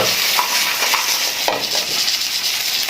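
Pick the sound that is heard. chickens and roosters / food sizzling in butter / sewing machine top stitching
food sizzling in butter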